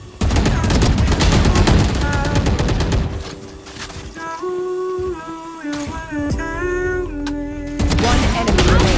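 Rapid bursts of Prime Vandal rifle fire from a video game, set against game music and effects; dense volleys fill the first three seconds, tones and tonal effects follow, and heavy firing returns near the end.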